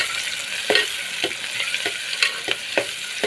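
Chopped onions fry in hot oil for a palu posi munakaya curry, a bright steady sizzle punctuated by regular stirring scrapes about every quarter second, close and fairly loud, with no voices.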